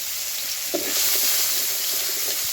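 Onions frying in a pan for a village-style rui fish curry with bottle gourd stems and potato, a steady hissing sizzle with a small clatter as they go in, no talking.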